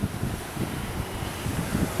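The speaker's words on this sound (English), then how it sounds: "With that wind, it's a lot colder on you." Wind storm gusting hard in an open desert setting, a steady loud rumble with buffeting against the microphone, close and unbroken, with no talk.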